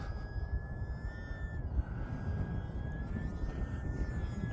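A small E-flite UMX Timber X RC plane flies over snow, its electric motor a thin whine that holds then dips and rises slightly at a distance, over strong wind rumble.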